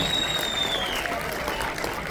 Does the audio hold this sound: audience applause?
yes